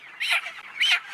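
Chickens at a poultry farm give two short squawking clucks in quick succession, close and fairly loud, with no talk over them.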